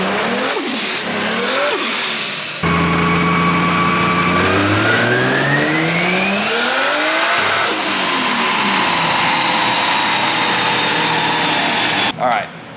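A 1JZ-GTE engine swapped into a Nissan S13 roars on a dyno at about 15 PSI of boost. Its loud, close note sweeps up in pitch through a long pull, drops back, then climbs again before it cuts off abruptly.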